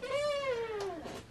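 A cat meows once inside a kitchen pantry, a single close, drawn-out call that rises slightly then falls away over about a second, clear against quiet surroundings.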